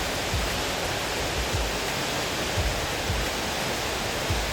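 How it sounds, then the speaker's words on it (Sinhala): Brahmana Ella waterfall plunges into a deep pool, making a loud, constant broadband roar of rushing water with no pauses. "මේ ඇල්ල ඉතා ගැඹුරු ජල තටාකයකින් යුක්තයි."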